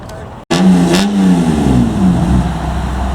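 At a car meet, a Nissan S14's engine is revved hard close by after a brief cut, rising and falling in pitch before holding a loud, steady drone, with people talking faintly.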